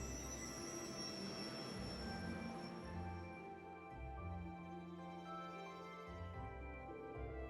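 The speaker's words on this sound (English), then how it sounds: "And here's our train." Train in the video game Trails of Cold Steel III rolling along, a sustained rumble with squealing wheels and high metallic tones, moderately loud and steady, fading slightly midway before continuing.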